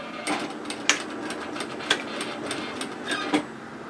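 A sewing machine stitching a 1 cm hem straight through an overlocked edge on a beach wrap coverup, a close, steady mechanical whirr broken by several sharp clicking knocks at irregular intervals, with no talking.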